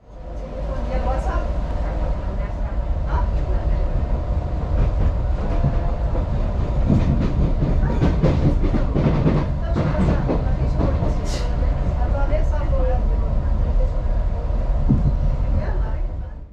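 A Renfe FEVE narrow gauge train pulls out of Santander, its loud, steady rumble and rolling wheel noise heard from on board, with clicks and rattles throughout and voices faintly present.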